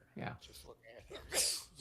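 A sneeze bursts out amid casual conversation at a tabletop wargame session replaying the Battle of Prague, 1757. It is one sharp, hissing burst partway through, with voices talking before and after it.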